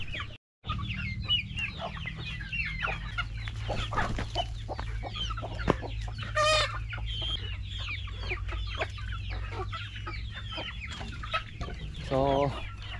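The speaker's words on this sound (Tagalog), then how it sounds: "So, ito yung mga manok natin." A flock of free-range chickens on an open range clucks and chatters continuously at close range, with scattered squawks and a brief crow-like call standing out above the steady farmyard murmur.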